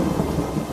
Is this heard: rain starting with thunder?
yes